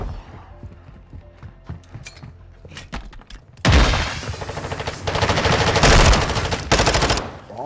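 Video game gunfire: a few scattered shots and mechanical clicks, then sustained loud automatic fire with rapid bursts continuing to the end.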